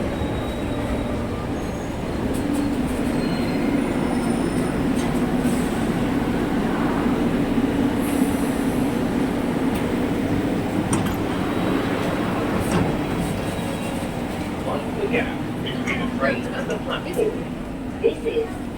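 A London Underground Metropolitan Line train rumbles steadily while riding between stations, with a constant low drone, faint wheel squeals and clatter, and an onboard announcement voice speaking over it.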